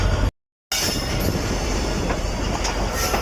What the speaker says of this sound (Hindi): गाड़ी अपना ट्रैक चेंज करते हुए